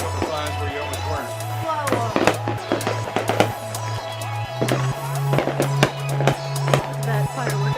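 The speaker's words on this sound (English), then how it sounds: "There's so many fireworks, it's getting too loud to play our game." Fireworks pop and crackle near a house yard in quick irregular bursts, loud and close, with sharp cracks layered over each other while people talk and a steady tonal hum runs underneath.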